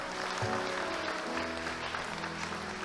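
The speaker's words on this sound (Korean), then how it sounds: "우리 한 번 더 박수하겠습니다." Members of a church congregation at a new-family welcome event clap together for a few seconds, applause running steadily under sustained keyboard music.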